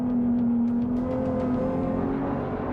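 Volkswagen New Beetle race cars at a Montreal race accelerate through a 6-speed gearbox, their engines making a loud, continuous rising drone with a strong steady tone that shifts pitch as gears change, heard without any talk.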